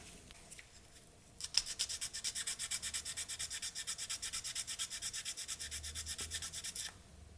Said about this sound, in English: I will have fun with some ejector pin mark sanding and filling.